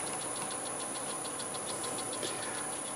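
A wood lathe spins a twisted tangent-stave blank, giving a steady, even whirring drone with a faint rhythmic pulse and a thin high whine, constant throughout with no talk.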